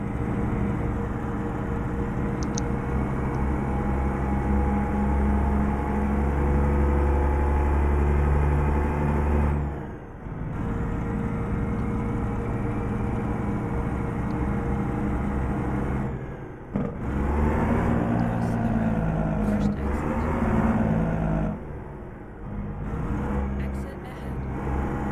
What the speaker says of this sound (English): I don't think this engine sounds very good to start with.